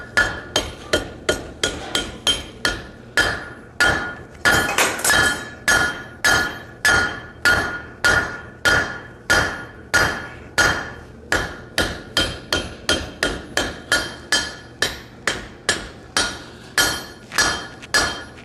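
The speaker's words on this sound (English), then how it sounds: "All this metal that I'm upsetting right now is going to become horns and ears." A blacksmith hammers a hot metal bar, upsetting an inch-and-a-half stock at a forging conference; loud, sharp ringing blows land in a fast steady rhythm with brief pauses between bursts, no talk over them.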